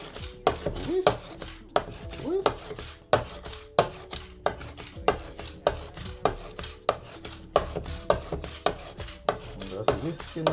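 A spoon whisks banana fritter batter for Jamaican banana fritters, striking the bowl in a brisk, even rhythm of close taps and clinks, about two per second, with no talking.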